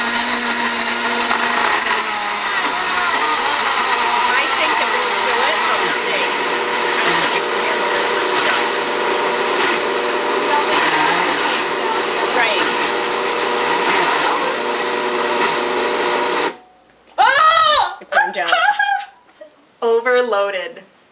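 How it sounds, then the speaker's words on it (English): A Blendtec blender straining under an overloaded container of 4 cups coconut and 1 cup sunflower seeds grinds with a loud, continuous laboring whine, then cuts out abruptly; a voice speaks in short bursts afterward. "I'd never seen that before on the Blendtec, but we overloaded it"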